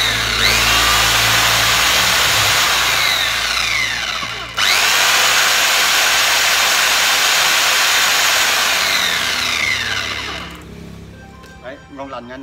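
A Japanese-made 10-volt electric saw cutting wood runs loudly and steadily, cutting off briefly before starting again and continuing until it winds down near the end.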